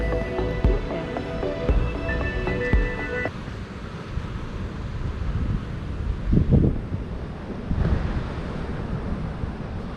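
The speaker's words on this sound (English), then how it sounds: "And here's the Grassy Head beach." Surf at Grassy Head beach near high tide, a steady wash of waves with broad rushing swells and wind buffeting the microphone, moderately loud and continuous, with a few brief clinks near the start.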